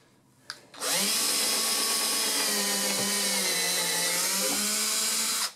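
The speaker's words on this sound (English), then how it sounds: "So I'll just keep drilling one down the line on either side" Power drill boring holes into wooden breadboard ends on a mission-style secretary, a steady high-pitched whine running loud and unbroken for several seconds after a brief start.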